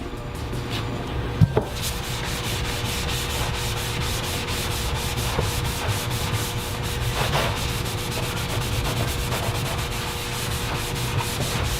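Continuous rubbing as a buff product is worked over plastic to lift graffiti marker, a steady close scrubbing rhythm with a couple of sharp knocks early on, no voices.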